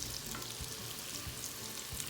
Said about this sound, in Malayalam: ഇനി ഇതേ ഓയിലിലേക്ക് തന്നെ നമുക്ക് മഷ്റൂമും കൂടെ ചേർത്ത് കൊടുക്കാം.